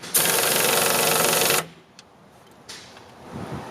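A screw gun drives screws into a wall-mounted cabinet, one loud, steady whir lasting about a second and a half, then quiet handling taps.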